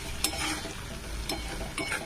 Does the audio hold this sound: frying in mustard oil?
yes